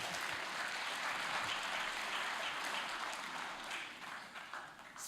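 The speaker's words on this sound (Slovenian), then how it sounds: "predlagam, da za danes sklenemo dogovor in ploskamo, dokler govorniki ne pridejo pred mikrofon" An audience at an anniversary ceremony applauds steadily in a hall, a dense, sustained wash of clapping that stays even throughout and eases slightly toward the end.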